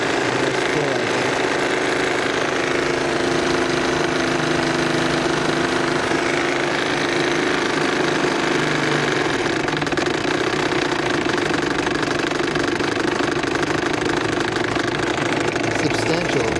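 An early Bassett Lowke live steam engine with an all-brass crankshaft, powering a 42-inch patrol cruiser boat, runs in a steady, rapid mechanical chugging and knocking that stays constant and close throughout.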